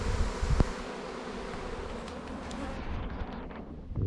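A honeybee swarm hums as it enters a hive outdoors, a steady dense buzz at moderate distance with light wind and occasional handling bumps.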